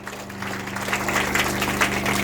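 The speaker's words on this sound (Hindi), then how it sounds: "इस पहल के लिए जोरदार तालियां होनी चाहिए सरकार की।" Applause from an audience at a rural government outreach gathering in a village panchayat, a steady, fairly soft wash of clapping over a low constant hum, continuing evenly throughout.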